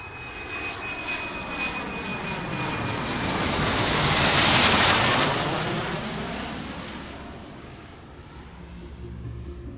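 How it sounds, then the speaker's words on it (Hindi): Airliner jet engines roar steadily as Air Transat Flight 236 departs for Lisbon, a broad rushing noise that swells to a peak midway and then eases back, with no talk. "कैप्टन सभी रूटीन चेक कंप्लीट करने के बाद इंजन को फायर करते हैं और फ्लाइट 236 लिस्बन जाने के लिए रवाना हो जाती है।"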